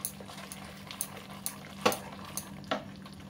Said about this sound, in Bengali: এবার খুব ভালো করে মিশিয়ে নেবো এর মধ্যে।